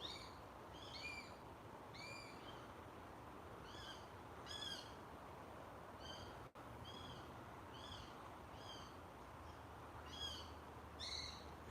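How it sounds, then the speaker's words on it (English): A kestrel mother and chick calling outdoors, repeated high thin squeaking cries in short bursts every second or so, moderately distant over steady background hiss and low rumble, with no voices. "It is, it's a kestrel."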